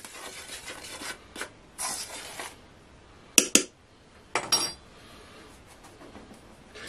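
Baking powder being stirred into all-purpose flour in a bowl, heard as faint rubbing, scraping strokes with a few sharp clinks of a utensil against the bowl, quiet and intermittent with no talk.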